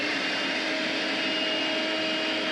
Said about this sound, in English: vacuum it up